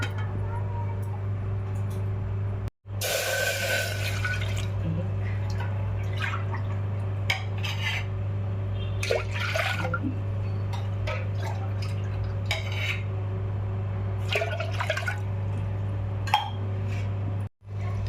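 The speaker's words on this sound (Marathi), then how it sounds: "त्याच्यात तीन ग्लास पाणी घालते" Three glasses of water are poured into a metal cooking pot on a home kitchen stove while making ambil. A splashing burst with a few clinks and drips sits over a steady low hum, heard close up.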